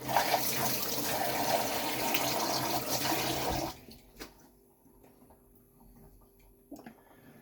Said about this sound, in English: A little bit of running water now